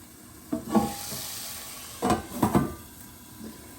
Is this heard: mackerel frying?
yes